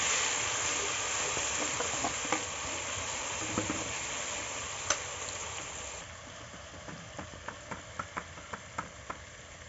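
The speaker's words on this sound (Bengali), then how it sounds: "এখন আমি আগে থেকে পেস্ট করে রাখার আদা রসুন বাটা দিয়ে দিচ্ছি। একটু নাড়াচাড়া করে নেব।" Ginger-garlic paste sizzles steadily in hot oil in a pan for egg and potato curry, with a spatula's light taps and scrapes growing regular toward the end.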